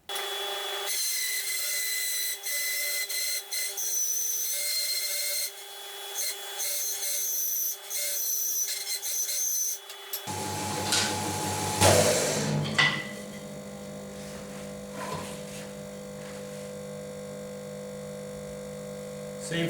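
A saw cuts timber at an angle along a fence while building a pedal board, with a steady humming, rasping cut for about ten seconds before the tone shifts into a rougher, lower grinding run.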